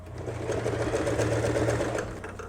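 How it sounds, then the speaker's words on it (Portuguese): A sewing machine runs steadily, stitching an apron's fabric in one continuous, close, loud hum for a couple of seconds before easing off at the end. "A gente passa a costurinha também aqui, pra ficar certinho"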